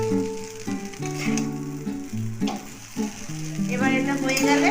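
Chowmein with peanuts stirred and tossed in a hot pan sizzles steadily, with spatula scrapes and clinks on the metal. A tonal hum plays throughout.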